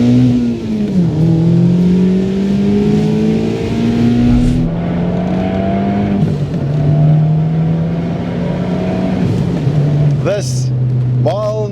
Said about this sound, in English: Only with a far more exciting exhaust note.